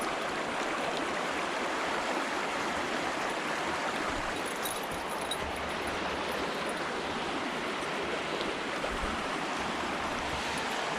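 Stream water on a hiking trail rushes steadily and close by, a continuous broad hiss with no breaks and no voices over it.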